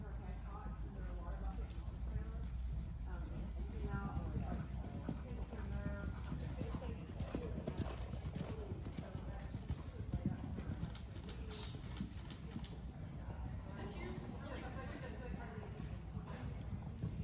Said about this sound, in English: Canter, please, all riders,